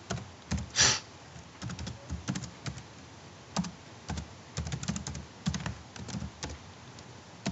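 Login details typed on a computer keyboard: close, quick irregular clicks and clacks of keys in short bursts with brief pauses, with no talking.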